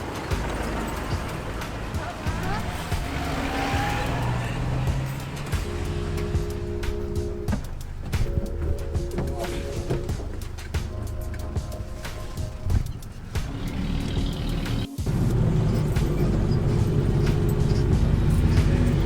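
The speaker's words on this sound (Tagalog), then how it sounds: "Yun na yung jeep." Jeepney engine rumbling as it pulls up and drives off on a Philippine street, a steady close mechanical drone with traffic noise and clatter, under occasional talk.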